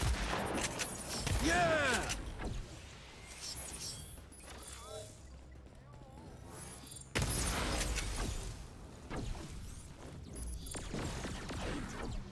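A powerful gun fires in the Agents of Mayhem action game, loud crashing blasts and bursts at the start and again midway, layered with game effects, while a man exclaims over it.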